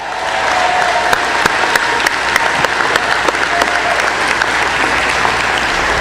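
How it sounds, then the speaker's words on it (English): A crowd claps steadily in sustained applause at a college commencement, a dense wash of hand claps with a few sharper nearby claps standing out. "A round of applause for Eric."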